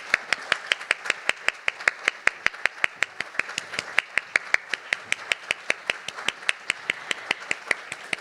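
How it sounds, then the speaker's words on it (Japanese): Steady, evenly spaced hand claps ring out at a Japanese press conference as the audience welcomes Yoshiki, back from his Milan Collection brand debut. About four crisp claps a second, fairly close, with no voices over them. "では皆様大きな拍手でお迎えください。"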